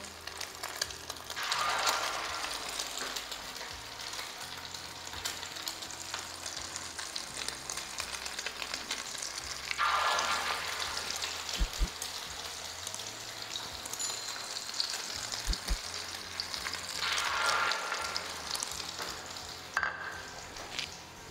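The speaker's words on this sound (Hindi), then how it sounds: "ये इसमें हम इसको फ्राई कर लेंगे" Chicken shami kababs frying in oil in a pan, with a dense, steady crackling sizzle throughout and occasional louder bursts and spatula scrapes, close up with no talking.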